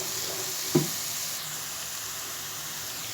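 Onions and green chillies fry in a pan for vegetable macaroni, giving off a steady, even sizzle with one brief clink of a utensil near the start.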